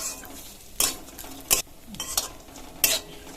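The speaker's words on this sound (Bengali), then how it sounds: "ড্রাই ফ্রুটগুলো হালকা এরকম লাল করে ভেজে নিয়েছি।" Chopped dry fruits and raisins frying in ghee for semolina laddu under a low sizzle, punctuated by several sharp scraping strokes of a spoon against the pan, with no talking.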